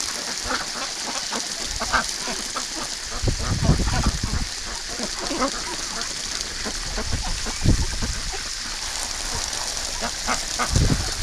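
Pet ducks call near a garden hose, a scatter of short honking quacks rising over steady water hiss at moderate distance, with bursts bunching around the middle and end.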